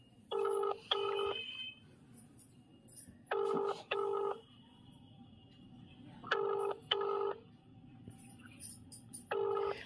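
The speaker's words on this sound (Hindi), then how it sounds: "यहाँ पे हम स्पीकर कर रहे हैं, ये रिंग भी जा रहा है" An outgoing phone call rings on speakerphone: paired ringback tones repeat at a regular interval of about three seconds over quiet room noise, with no one answering.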